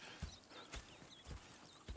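Horses in the Red Dead Redemption 2 video game walk with steady, moderately close hoof clip-clops at a regular pace, with faint whinny-like tones in the background.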